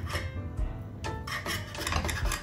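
Knife sawing through a microwave pizza: short rasping scrapes and rubs in quick strokes, close and fairly faint, with background noise from outside.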